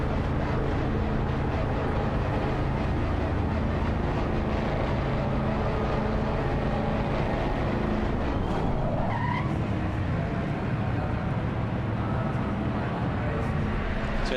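A GT3 race car engine idles and revs in the pit lane at Zandvoort in Assetto Corsa Competizione, a steady loud mechanical drone throughout with a brief tonal whine partway through.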